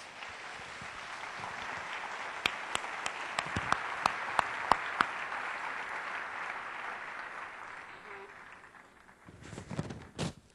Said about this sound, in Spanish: ¿Por qué no se dan un aplauso a ustedes?